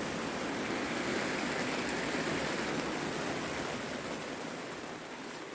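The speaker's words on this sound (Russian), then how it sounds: "Там сумасшедший ливень." Heavy downpour produces a dense, constant roar of falling rain, steady and fairly distant, with no voices.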